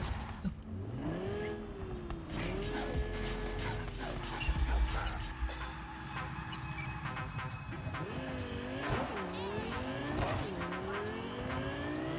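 A stolen car in Cyberpunk 2077 drives hard with its engine revving and tires squealing in repeated skids, loud and continuous throughout, with gliding pitch sweeps from the motor.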